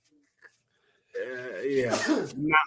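A single sharp sneeze bursts out after a brief quiet, with a short vocal sound trailing right after it.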